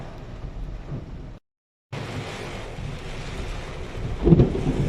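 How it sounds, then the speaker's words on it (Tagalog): Heavy rain in Pasay, Philippines hisses steadily with a low rumble of thunder, cut by a brief moment of silence, then a louder thunder boom near the end. "Malakas na ulan, malakas na kulog at kidlat dito sa Pasay ngayon."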